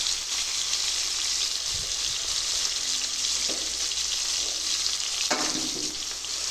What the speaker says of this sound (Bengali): এবার সবজিগুলো ঢেলে দিলাম। দিয়ে এবার সবজিগুলো ভালো করে লাল লাল করে ভেজে নেব